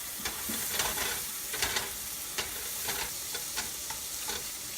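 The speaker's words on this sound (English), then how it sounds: "I am going to go back and get just a little bit more butter" Food sizzles in butter in a hot pan while a utensil stirs and scrapes at it in short, irregular strokes, with a constant frying hiss underneath.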